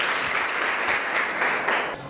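Sustained applause from a live audience during a talk program on mental health and stress, steady and dense throughout, then tapering off at the end.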